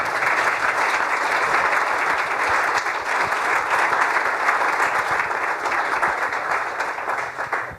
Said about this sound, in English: please join me in applauding our panel